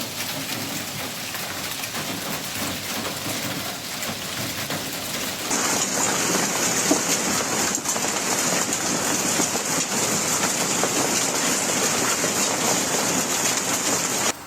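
Heavy storm rain in Ariège, France pours in a loud, continuous roar, intensifying abruptly about a third of the way through into an even denser, brighter downpour.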